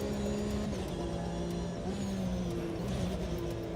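Race car engine in a racing simulator game, a steady loud whining drone with shifting engine tones throughout, continuous and close, with no talk.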